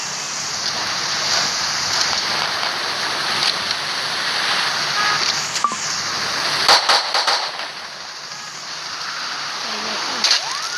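Rain falls in the video game Choo Choo Charles as a steady hiss of drops, fairly loud and constant, with a few sharp crackles and thumps mixed in, and no talk over it.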